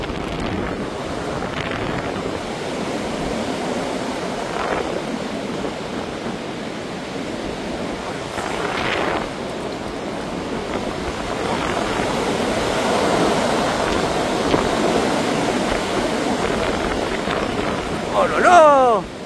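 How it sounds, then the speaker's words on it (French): Strong gusts of Storm Floriane in January 2025 roar across a microphone in a steady broadband rush, swelling in repeated surges and peaking loudly near the end, with occasional faint voices underneath. "Force des rafales."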